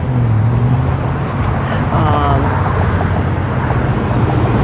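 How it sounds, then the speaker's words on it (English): Dense road traffic roars loudly and steadily past a cyclist on a commute after work in Cherry Hill, a close, continuous rumble of passing cars with a brief engine whine in the middle. "the traffic's gonna slow down"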